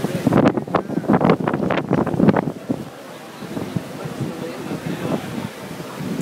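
Heavy rain at the 2011 Silverstone Formula 1 race, a dense broadband wash with gusty buffeting on the microphone, louder in the first half, while people talk loudly over it.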